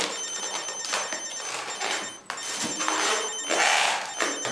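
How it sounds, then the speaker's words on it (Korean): A telephone rings in a Korean TV drama scene, a loud electronic ring repeating in short bursts with brief gaps, close and clear with no talk over it. "저 잠깐 전화 좀 받고 올게요."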